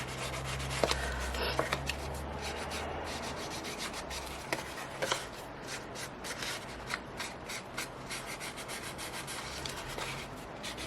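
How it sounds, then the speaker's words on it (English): Black crayon rubs across a mixed media art journal page in quick, dry scratchy strokes, close and fairly soft, with an irregular rhythm of short scrapes and brief pauses and no one speaking. "Let's just try the black crayon."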